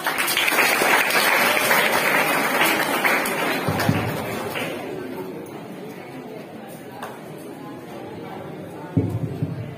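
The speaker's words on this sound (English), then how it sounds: "Give her a huge round of applause." Audience applause at a Teachers Day school function in Saint Joseph's Convent School, Banda: a loud burst of clapping that gradually fades, followed by a few scattered knocks and thumps as a voice speaks.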